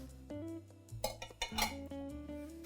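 Metal clinks and scrapes of utensils against a pot as cooked pork shank drumsticks are lifted out, a few close, bright knocks over a low steady hum.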